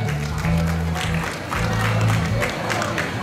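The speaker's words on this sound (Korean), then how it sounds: "다시 한번 뜨거운 박수 부탁드리겠습니다" Award ceremony audience at a belly dance competition in Yanggu breaks into sustained applause, a dense wash of many hands clapping with some crowd murmur, swelling and easing slightly over a few seconds.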